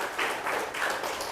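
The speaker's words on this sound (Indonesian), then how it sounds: "tepuk tangan untuk jawaban-jawaban yang benar" Classroom of Catholic religion students clapping briefly for correct answers, a steady moderate patter of many hands at mid distance with no talking over it.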